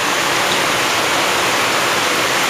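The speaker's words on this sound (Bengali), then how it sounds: "বাইরে প্রচন্ড বৃষ্টি হচ্ছে" Heavy rain pouring outside, a loud, dense, unbroken hiss filling the short stretch with no other sounds.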